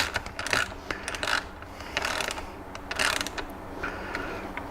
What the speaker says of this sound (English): Just use a simple ratchet or maybe a screwdriver end and go ahead and get these the rest of the way in